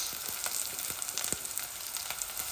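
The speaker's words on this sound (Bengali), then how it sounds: "আদা রসুনটা দিয়ে দিচ্ছি ফ্রেশ" Fresh ginger and garlic hit hot oil in a pan for minced meat bhuna, producing an even sizzle studded with quick, fairly quiet pops and crackles, heard alone.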